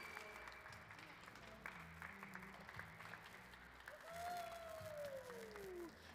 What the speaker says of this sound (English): Let's give them a big round of applause for all their hard work.